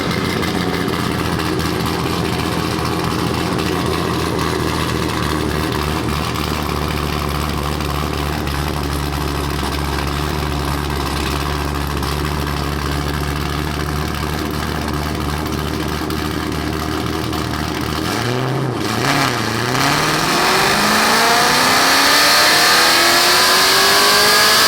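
An LS1-swapped Nissan R34 on a dyno pull, its V8 holding a loud, steady drone close up, then dipping and sweeping upward in a rising rev for the last few seconds.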